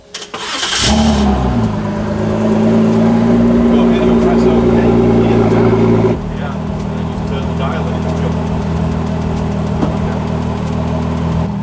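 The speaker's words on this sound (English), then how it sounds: "Press the red button, fire it up." A new Ford GT supercar starts up at the push of a button, with a sharp cranking catch and a loud rising rev, then settling into a deep, steady idle close by.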